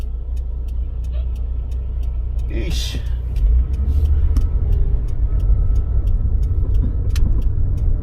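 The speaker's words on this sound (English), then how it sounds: "And this log truck" A log truck drives along a road toward a parking lot, a steady loud engine rumble filling the low end while a person talks over it and a brief sharper burst passes midway.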